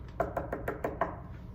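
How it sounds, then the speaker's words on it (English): Knocking on a door, six quick, evenly spaced raps, close and clear, with nothing else sounding. "Let's knock on the door."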